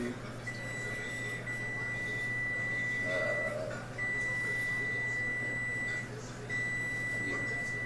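An oven timer gives a long steady electronic beep, cuts out and sounds again twice, fairly loud over a low kitchen hum and quiet background talk as the oven is turned off.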